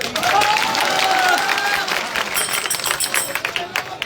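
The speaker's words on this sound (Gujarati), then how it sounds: "એમના માટે જોરદાર તાળીઓ" Audience clapping for bhajan singers at a village gathering, a dense burst of applause that thins into scattered claps, with voices mixed in.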